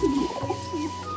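An old Madras pigeon, twelve or thirteen years of age, gives a short low coo close by, a soft throaty burble against a faint steady hum.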